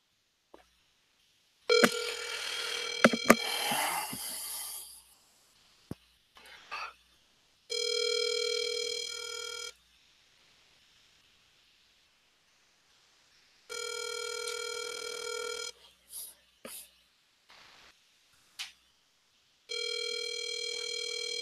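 A telephone call to another line sounds repeated electronic ringback tones, each steady burst lasting about two seconds with long silent gaps between them, after an opening stretch of noisier line sound.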